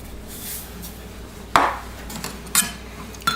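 A utensil clinks against a bowl while Creole seasoning is stirred in, a few sharp knocks spaced over a quiet kitchen background.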